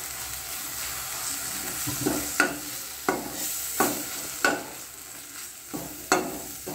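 Spices stirred into capsicum and potatoes frying in a pan: a soft background sizzle punctuated by regular scraping strokes of a spatula, roughly one every half second to second, close by.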